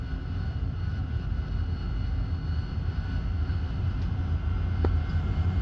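Aircraft engine in a video game set during a 1996 US invasion of Cuba, a steady low droning roar as the plane rolls toward takeoff, loud and continuous with a brief click near the end and no talking.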